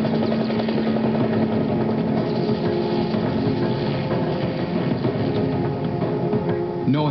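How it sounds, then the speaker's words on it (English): The engines of a Soviet Mi-8 helicopter run loud and close, a dense continuous turbine roar with a steady rotor throb and a droning hum throughout. "this Soviet Mi-8 helicopter has just fired up her engines."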